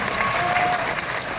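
Audience applause at a Star Wars event at Hollywood Studios with Frank Oz, a dense steady clapping from a crowd, sustained without a break.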